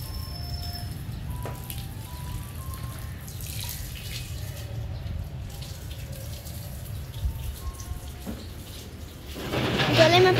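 Water pours steadily onto potted plants at home, a continuous splashing flow with faint tonal sounds in the background, rising to a louder rush near the end.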